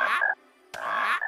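A human voice imitates a frog with two short, throaty croaks separated by a brief pause, close and clear, in a French-language cartoon.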